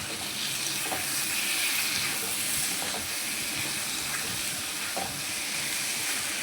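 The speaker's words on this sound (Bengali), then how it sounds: "এবারে ছাতুগুলো দিয়ে দিলাম, ভাজা ছাতুটা দিয়ে আবার কষিয়ে নিচ্ছি" Roasted sattu stirred into spiced potatoes in a pan, a steady loud frying hiss with a few soft spatula taps spaced across it, close by and without talk.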